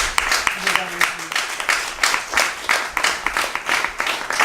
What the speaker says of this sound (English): I just want to applaud the women of Mankosi